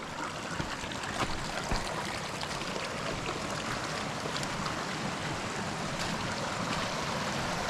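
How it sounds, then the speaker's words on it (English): A small creek crossing on a wilderness backpacking trail, with water flowing and trickling steadily at a moderate, even level throughout and no voices. "There's a little creek crossing."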